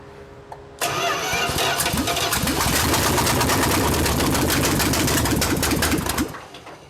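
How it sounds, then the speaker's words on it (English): A 1988 Dodge D100 shortbed pickup engine cranks and catches abruptly, then runs loud and close with a rapid, uneven ticking idle for several seconds before cutting off, with no talk. "It runs. It's hard to tell if it's running all the cylinders or not, but it does run."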